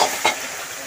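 Vegetables go into hot oil over fried onion for a mixed five-vegetable dish, giving a loud, close, continuous sizzle with a brief sharper burst near the start.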